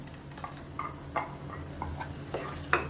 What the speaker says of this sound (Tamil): வந்து நம்ம அரைச்சி வச்சுருக்க இந்த தக்காளி பேஸ்ட்டை சேர்த்துக்கணும்